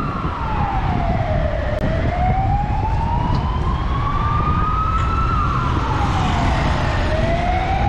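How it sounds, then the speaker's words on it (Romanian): A loud, close ambulance siren wailing, rising and falling slowly in pitch over heavy traffic rumble at a traffic light. "Din calea ambulanță."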